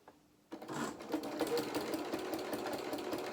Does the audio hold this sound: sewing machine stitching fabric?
yes